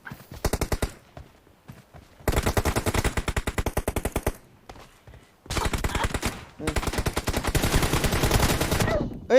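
Rapid machine-gun fire in a shooter game match, loud and close, in long sustained bursts separated by short pauses, with a few quieter shots between.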